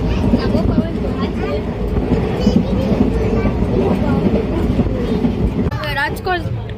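Rumbling, rattling interior of a moving passenger train, a steady continuous roar throughout with people talking over it and a voice near the end.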